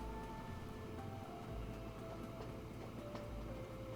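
A goods train in the game Train Fever, an iron train hauling two loaded cars, runs as a steady low rumble with faint metallic clicks and tonal hums, continuous throughout.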